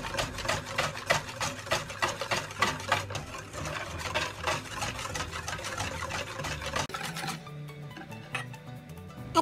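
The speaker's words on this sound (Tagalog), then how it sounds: "haluin din po natin siyang mabuti para mag-combine po yung gatas sa ating butter, sa sugar po at sa ating egg" Milk, butter, sugar and egg stirred together for bibingka batter, a steady fast rhythm of scraping strokes against the bowl that runs continuously and then thins out near the end.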